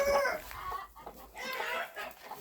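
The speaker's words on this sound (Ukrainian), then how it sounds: "Подивимося, що в нас тут з курчатами відбувається." Chickens and young chicks cluck and chirp close by in a busy, overlapping series of short calls, with no voices over them.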